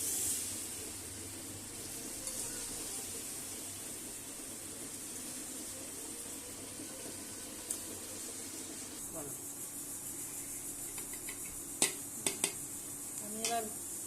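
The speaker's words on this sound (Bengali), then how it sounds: "গুড়টা দেওয়ার পর কিন্তু নেড়েই যেতে হবে যাতে নিচে না ধরে যায়।" Jaggery stirred in a cooking pan, quiet scraping and soft sizzling hiss with a few sharp utensil clinks against the pan near the end.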